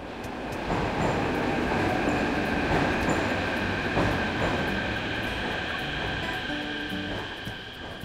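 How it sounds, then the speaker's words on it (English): An old tram car rolls along with a loud, steady rumble of wheels on rails, faint squeals and rhythmic clicks running under the drone. "This tram car is very old."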